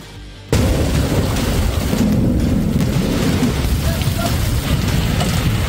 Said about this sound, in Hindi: सूरत में ऐसी बारिश हुई है कि सड़कें नदी में तब्दील हो गई हैं